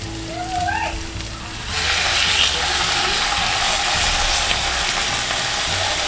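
Pork belly for adobo sizzles and spits in a hot pan, a steady, fairly loud bed of frying that swells in after a voice briefly speaks at the start and then carries on alone.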